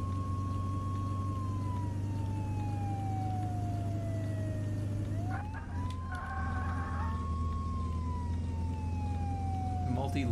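Emergency vehicle siren in the driving game Flashing Lights, a loud continuous wailing tone sweeping slowly down and back up over a steady engine drone, with a brief change of siren pattern midway; talking can be heard under it.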